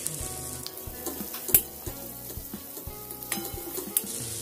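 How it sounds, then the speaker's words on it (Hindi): Chopped green and red capsicum frying with soya chunks for soya chilli over a high flame, a close steady sizzle broken by clacks of a spatula stirring against the pan, with no voices. "हाई फ्लेम पर भूनने से सब्जियों में क्रंच रहेगा।"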